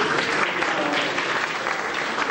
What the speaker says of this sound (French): Et ça mérite des applaudissements.